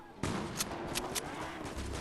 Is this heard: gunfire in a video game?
yes